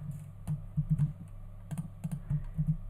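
Scattered keystrokes on a computer keyboard, close and soft with a muffled low thump, coming in small irregular clusters over a faint steady hum, no speech.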